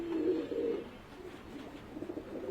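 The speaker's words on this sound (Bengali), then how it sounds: "এই যে দেখতেই পাচ্ছেন মাশাআল্লাহ অনেক অনেক কবুতর" Pigeons cooing in a loft, low soft throaty coos repeating close by over a quiet background, with no talk.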